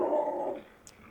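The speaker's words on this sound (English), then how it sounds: "that's definitely a neighbor's dog" A neighbor's dog behind a fence at night gives a short, moderately loud burst of barking and growling in the first half, then drops to a quieter background with one brief sharp sound near the end.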